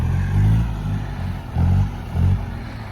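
A Kubota tractor engine works near a forest road, its low steady rumble swelling three times in short revs before settling back to idle.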